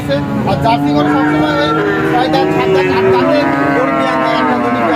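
A Jersey cow lows in long, drawn-out moos close by, with steady background noise throughout.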